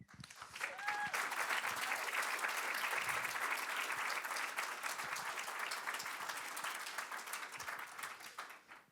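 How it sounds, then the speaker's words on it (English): Sustained applause from a conference audience after an opening keynote, building quickly and holding steady for several seconds before fading. "let's give it one more round of applause for David Hogg"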